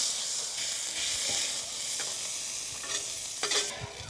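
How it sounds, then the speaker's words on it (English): Onions and jalapenos sizzle steadily on a hot griddle for a cheeseburger, a dense close hiss with a few brief scrapes and stirs, no voices. "it's taking 45 seconds or so to get the onions and the jalapenos grilled"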